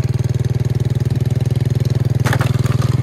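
A motorcycle engine runs on a narrow path that only motorbikes can pass along, a loud, close, pulsing putter with an even rapid beat, joined near the end by a short burst of rustling or scraping.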